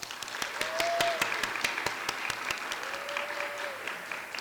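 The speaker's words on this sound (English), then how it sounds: "Can we give her a round of applause?" An audience applauds a school creative writing event host, with clear individual claps ringing out in a moderate crowd, fairly even and continuous, joined by faint tonal squeals over the clapping.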